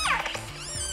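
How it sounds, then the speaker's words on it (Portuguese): An orca call played back through an iPhone speaker by Siri: a brief whistling, squealing cry with rising and falling tones, close and fairly loud, alone without talk. "Uma orca soa assim."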